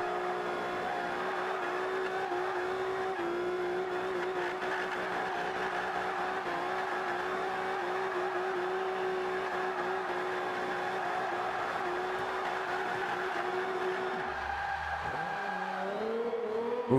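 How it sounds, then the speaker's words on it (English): Toyota Celica front-wheel-drive drift car in Forza 5, its engine holding a steady high drone through a long slide, then dipping and revving back up near the end. "that's the Toyota Celica front wheel drive drift tune"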